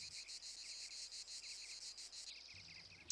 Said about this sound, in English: The mechanism by which the cicada produces its potent roar is hidden precisely under the wings.